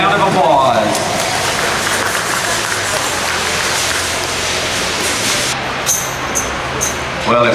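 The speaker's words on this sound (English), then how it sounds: "Let's give these exhibitors one big round of applause." Audience at a livestock exposition show ring applauding exhibitors, dense sustained clapping that fills the space loudly, with a voice over a PA sounding near the end.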